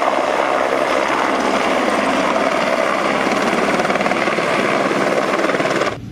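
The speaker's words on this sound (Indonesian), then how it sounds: "ada juga helikopter terbang. Coba kita terbangkan." A video game helicopter flies with a steady, loud rotor chop and engine drone that holds level throughout, then cuts off abruptly near the end. No voices are heard.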